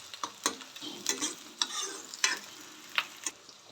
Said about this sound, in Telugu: ఆనియన్స్ వేసుకోవాలి, బాగా కలుపుకోవాలి.